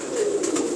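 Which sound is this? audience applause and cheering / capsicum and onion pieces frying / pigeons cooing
pigeons cooing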